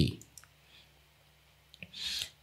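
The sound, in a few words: computer mouse clicking in Photoshop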